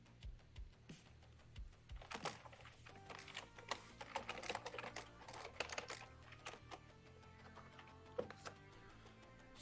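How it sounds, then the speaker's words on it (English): Soft, quick clicking of keys on a computer keyboard, irregular bursts of typing with brief pauses, faint and close with a low background hum. "I could hear you type."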